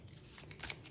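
Tarot cards being shuffled during a reading, a short, soft papery riffle close to the microphone with no talking.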